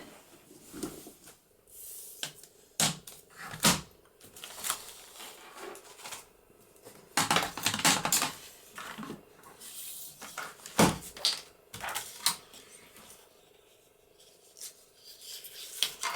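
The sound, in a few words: cutting acetate sheet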